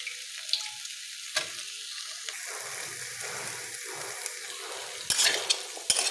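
Paneer frying in a pan while being stirred, a steady close sizzle with scraping stir strokes and a couple of sharp clatters near the end.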